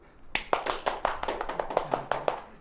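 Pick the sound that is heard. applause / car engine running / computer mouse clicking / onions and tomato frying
applause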